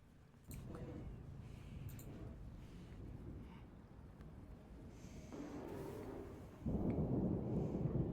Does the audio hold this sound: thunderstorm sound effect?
yes